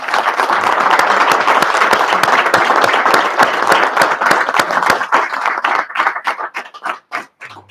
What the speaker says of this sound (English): give the director and all elections officials in Arizona a round of applause